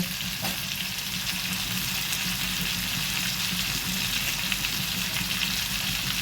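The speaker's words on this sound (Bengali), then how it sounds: "এবার একে একে আলুগুলোকে আমি এর সাথে নেড়ে চেড়ে নেব।" Potatoes sizzle and fry in a hot pan with prawns while being stirred, producing a steady, close hiss with soft scraping throughout and no voices.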